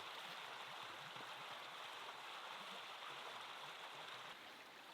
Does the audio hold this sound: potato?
no